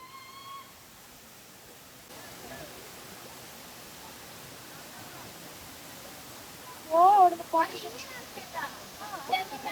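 Manpilave waterfall roars as a steady, broad wash of rushing water throughout, with people swimming nearby and voices, including a child's, breaking in near the end.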